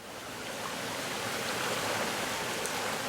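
Waterfalls of the Loira river in Marín rush in a steady, loud, broadband roar of falling water, continuous throughout with no voices.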